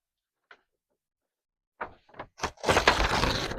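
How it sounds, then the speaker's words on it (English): A few short crackling tears, then a longer loud rip of paper, close by, with no talking. "Unless you guys like that ripping of paper."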